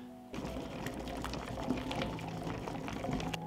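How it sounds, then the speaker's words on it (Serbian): Water at a rolling boil in a pot on the stove, pasteurizing sealed jars, gives a steady bubbling, churning rumble that continues throughout with no voices. "od momenta kada voda proključa, smanjite temperaturu, pustite da voda samo struji"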